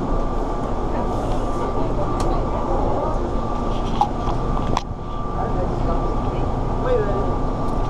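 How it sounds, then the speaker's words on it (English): An airport plane train runs along its track with a steady loud rumble and rail whine. A brief clack sounds partway through, and people talk over the ride. "Welcome aboard the plane train."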